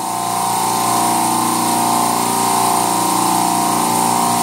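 Compressor running during oil pump filter cleaning, a loud, steady mechanical hum with strong tonal whine that stays constant for the whole clip, no voices.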